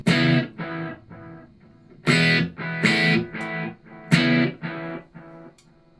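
Electric guitar through an ID Core amp with its analog delay effect: a few plucked notes and chords, each trailed by softer, fading repeats, clear and up close with no talking.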